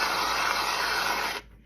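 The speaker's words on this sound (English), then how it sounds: "Now add some whipped cream," Whipped cream sprays from a can onto a cup of hot chocolate in one steady, close hiss lasting over a second, then cuts off abruptly.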